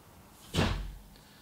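An indoor door slams shut once, a single loud, broad thud lasting about half a second that fades quickly into quiet room tone.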